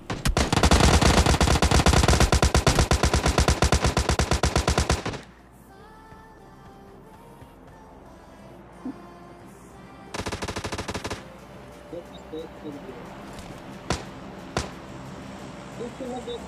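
Rapid bursts of automatic gunfire in PUBG Mobile Lite, a loud dense volley for about five seconds, then quieter game ambience with a second short burst and a few isolated shots.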